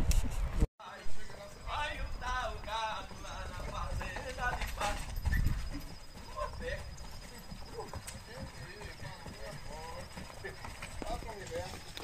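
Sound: horses' hooves clip-clopping as the herd arrives

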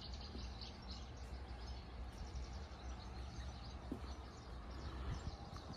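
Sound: birds singing

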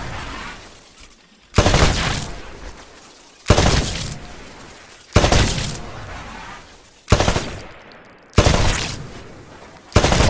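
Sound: rifle shots at shooting range targets, Titanfall video game

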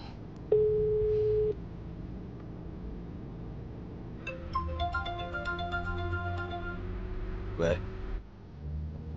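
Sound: telephone ringing tone on speakerphone call

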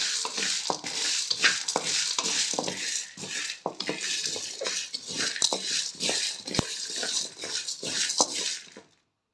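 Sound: dry-roasting spices in a pan while stirring

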